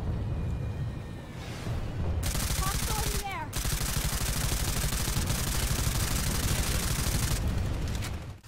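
Small arms gunfire in the video game PlanetSide 2, rapid continuous automatic bursts rattling loudly over a dense battle din, with short gaps between strings of shots.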